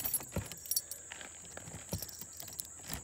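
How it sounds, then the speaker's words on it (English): Keys jangle near the door of a Jayco camper as they are taken out for unlocking, giving soft scattered metallic clinks over a steady background hiss. "Next, you want to get your keys out."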